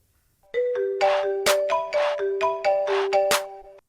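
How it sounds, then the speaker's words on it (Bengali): An incoming video call ringtone sounds from a phone, a bright electronic melody of repeated chiming tones in a regular pattern, loud and alone, stopping after a few seconds. "রিং হচ্ছে রিং হচ্ছে।"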